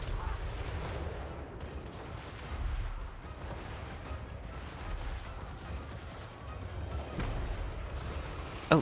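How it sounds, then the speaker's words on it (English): Cannons fire in a Total War: Warhammer 3 battle, a dense, continuous roar of booming shots and crashing impacts with steady battlefield noise and no voices. "Oh shoot, the cannons are almost out of ammo."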